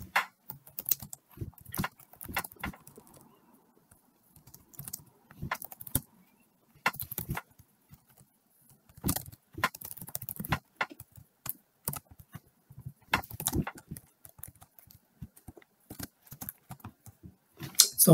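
Computer keyboard typing in irregular bursts of close, clicky keystrokes separated by pauses, with no voices, while data is written on a cloud server instance.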